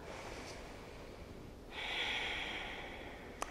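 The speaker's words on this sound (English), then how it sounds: "take a breath" A single audible breath drawn in through the nose during a standing yoga lunge, a soft airy inhale that swells partway through and is heard close and alone in a quiet room.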